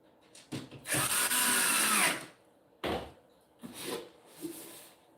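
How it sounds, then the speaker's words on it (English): A power drill drives screws that hold a camera in place on an IKEA Billy bookcase with extensions. Several short whirring bursts sound up close, one long run followed by briefer pulses, with no talking. "Let's put our screws that hold the camera in."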